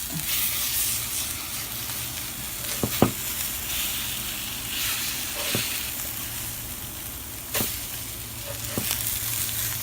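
Battered chile rellenos fry in a hot skillet, a continuous close sizzle and crackle with a few sharp pops and utensil taps scattered throughout, no talking.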